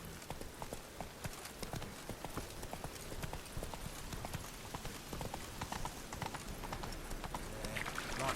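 Horse hooves galloping in The Witcher 3: Wild Hunt, a fast steady clip-clop rhythm running throughout against a dense background wash of game ambience, moderately loud.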